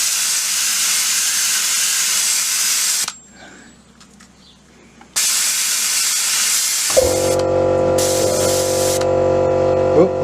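An airbrush sprays paint onto tabletop miniatures in bursts of steady close hiss, broken by a short near-silent pause, then a steady low compressor hum sets in under the final bursts of spraying.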